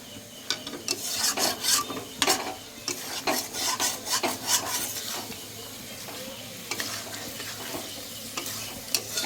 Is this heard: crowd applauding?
no